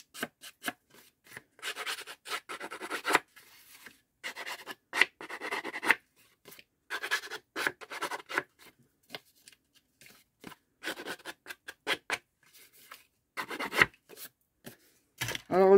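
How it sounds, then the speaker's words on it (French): Paper being rubbed and scuffed by hand to distress it for a small 11 by 11 cm mini album, close-up scratchy rasping strokes in irregular bursts separated by brief pauses. "On abîme le papier."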